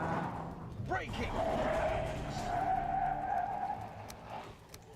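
A 2.5-ton Bentley braking hard from 60 mph, with a drawn-out tire squeal over road and engine rumble, and people talking over it.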